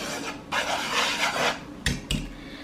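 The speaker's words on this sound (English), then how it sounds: "Now I am taking a whisk and whisking all those dry ingredients together." A whisk stirs dry biscuit ingredients in a bowl with a close, raspy scraping that swells and fades over a couple of seconds, ending with two sharp knocks against the bowl.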